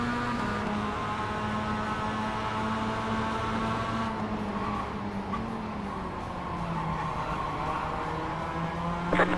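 Race car engine in an eNASCAR sim racing game on the Texas Oval, a steady droning whine that shifts pitch slightly as the car circles, continuous and fairly loud, with no talking over it.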